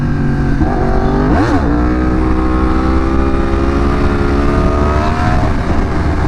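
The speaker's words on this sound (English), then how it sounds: "So if I'm at a lower speed, I need to give it more gas." A motorcycle engine revs hard as throttle is opened, a loud, close, sustained roar with a sharp rise in pitch and fall partway through, then a steady drone.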